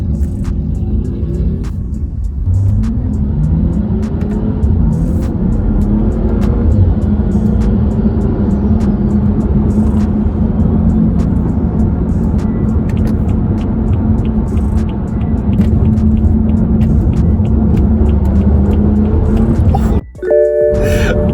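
A BMW F30 335i with an N55 engine tuned to Stage 2 accelerates onto a freeway, a loud continuous engine drone and road rumble heard from inside the cabin, holding strong throughout before a brief dip near the end.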